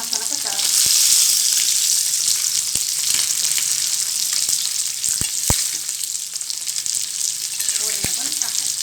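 Pomfret fish frying in hot oil, a loud, dense hiss and crackle that stays steady throughout, close up, with a few sharp clicks and pops cutting through.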